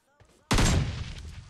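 Gunfire in the PUBG Mobile video game, an AKM rifle in play: a faint rustle, then a sudden loud burst of close shots that rings out and decays with a rough tail over a second.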